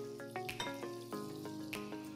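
Cumin seeds and curry leaves sizzle quietly in hot oil for Mumbai-style pav bhaji, a soft steady frying crackle with a few sharper pops, set against faint tonal background sound.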